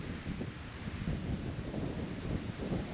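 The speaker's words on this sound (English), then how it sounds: "the wind's really picked up here" Wind gusts on the Lake Superior shore at Copper Harbor, a low rumbling buffet that stays loud and close the whole time and never lets up.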